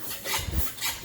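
A hand pump draws transmission fluid out of a 2015 Ford Explorer, giving faint, soft rubbing strokes that rise and fall in a short, quiet burst.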